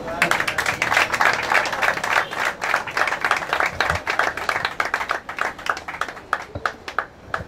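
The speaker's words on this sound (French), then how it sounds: "Junior, mesdames et messieurs, on applaudit encore." An audience at a comedy show claps steadily, a dense patter of many hands sustained throughout and gradually thinning toward the end, with a voice talking over it.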